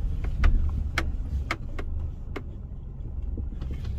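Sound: car driving into a parking lot

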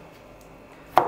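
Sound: chopping garlic with a knife

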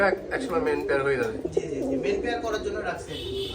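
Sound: Giribaz pigeons cooing on a pigeon farm

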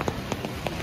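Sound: heavy rain falling

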